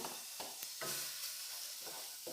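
Mutton masala with garam masala, cumin and coriander powder being mixed in a pan, a faint low sizzle broken by several soft thuds and scrapes of a stirring spoon, quiet and without speech.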